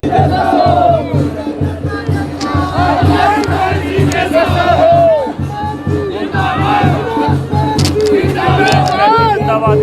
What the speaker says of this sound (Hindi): जिंदाबाद के नारे लग रहे हैं।